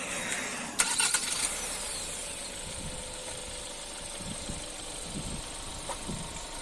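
A 2021 Kia Seltos GT Line diesel automatic starts remotely: a short cranking burst catches, then settles into a low, steady idle heard from a moderate distance, with no voices.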